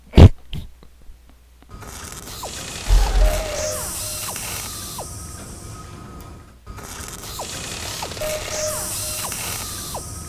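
Mech repair effect from the video game MechWarrior Online: loud whirring mechanical gear and ratchet noises with sliding pitch sweeps, heard as two long, steady bursts separated by a short break, with no voices.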